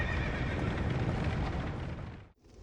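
A horse in the Dark Souls 2 Executioner's Chariot boss fight lets out a loud, sustained neigh lasting over two seconds before it cuts off, followed by a brief rumble.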